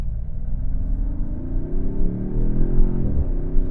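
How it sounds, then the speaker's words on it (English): Exhaust of a 2026 Dodge Charger Sixpack rumbles loud and close as the engine note rises through a shift, ending in a brief burble on the downshift. "There's a nice burble or crack on the shifts, which I do like that as well."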